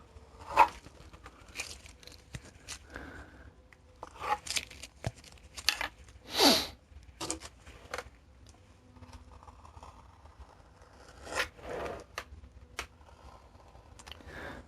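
Scissors cutting around paper shapes at a craft table, giving scattered soft snips and crinkles with several louder rustling bursts, close and fairly quiet, with no talking.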